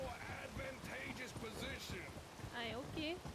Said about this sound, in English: can't hear you over this fucking rain